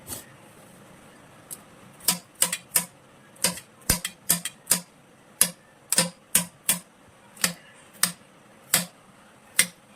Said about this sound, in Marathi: याला धुवून मी आता ठेचून घेते.